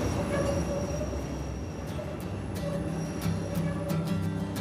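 An elevated L metro train in Chicago running on its 1892 steel overhead structure, its close, continuous rumble laced with thin wheel squeals and faint clicking over the rails.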